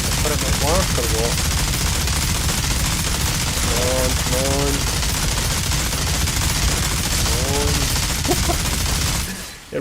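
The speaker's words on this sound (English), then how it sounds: "let's throw down a turret, activate the minigun" Rapid, sustained minigun fire from a deployed turret in the video game Outriders roars loud and continuous for nearly ten seconds, with a speaking voice breaking through in short bursts over the gunfire before it cuts off abruptly at the end.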